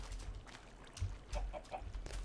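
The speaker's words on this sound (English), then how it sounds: "Is that a chicken just standing up on the edge there?" A Minecraft chicken gives a few soft clucks, faint and short, set against a quiet, slightly noisy game backdrop with no voices.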